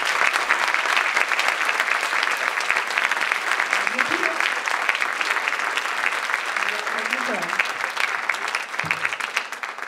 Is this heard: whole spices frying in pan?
no